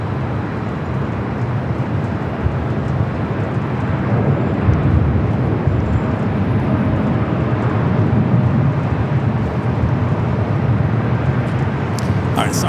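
A Lufthansa Airbus A380 landing on runway 24 right at Los Angeles International Airport gives a steady, broad jet roar heard from a distance, holding level without a break for the whole stretch.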